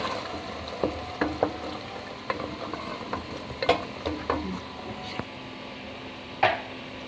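Potatoes fry in a pot of aloo gosht meat curry while a spoon stirs, giving a soft continuous sizzle broken by irregular close scrapes and knocks against the pot, with no voices.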